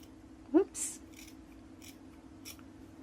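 A pair of scissors snips overhanging paper on a homemade faux decoupage coaster, one sharp close cut followed by a few fainter trimming snips and light rustles in a quiet room.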